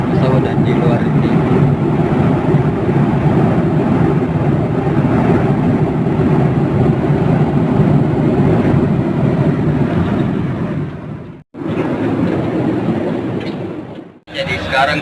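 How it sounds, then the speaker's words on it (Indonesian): Inside a Lion Air airplane cabin in flight, a loud, steady engine and air roar fills the space, with a voice talking over it and two sudden brief dropouts near the end. "Ini dia suasana di dalam pesawat dan di luar ini."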